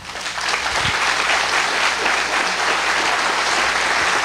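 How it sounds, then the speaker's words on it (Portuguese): A church congregation applauds loudly, with sustained clapping that swells quickly and keeps going without letup. "Aplauda bem forte ao Senhor."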